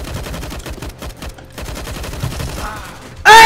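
Rapid automatic gunfire in CS:GO crackles in dense repeated bursts at close range, ending in a sudden loud blast.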